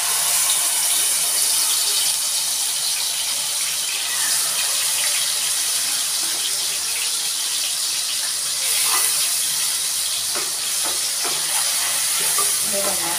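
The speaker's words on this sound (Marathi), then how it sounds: "तर हे आपण घेऊ तेलामध्ये टाकून." Ground paste of onion, coconut, ginger, garlic and cumin frying in hot oil, a steady bright sizzle with occasional stirring scrapes, close and continuous with no talk.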